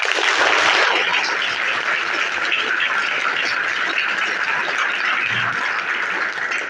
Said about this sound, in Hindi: आप सब लोग एक बार एक दूसरे को ताली बजाइए अभी जोरदार।